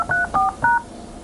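Three short telephone keypad tones beep in quick succession as a voicemail password is entered, each tone clear and close.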